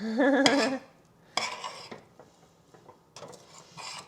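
Rice is stirred in a cooking pot with a utensil scraping the bottom, giving bursts of scraping and clinking separated by short quiet gaps, close by with no talking.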